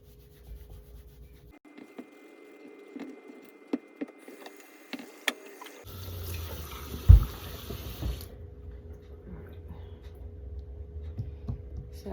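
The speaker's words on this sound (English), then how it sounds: "So I'm just trying to scrub off the excess dirt." Pumpkins are scrubbed clean of dirt, soft rubbing and scraping with a few knocks, then running tap water joins midway with a sharp thump before the flow stops.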